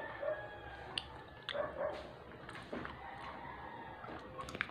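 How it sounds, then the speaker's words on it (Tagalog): A dog makes faint, intermittent barking and whining sounds at moderate distance, scattered across several seconds over a soft, busy household background with no clear speech. "Naawa kasi ako sa aso. Sa asong to, oh."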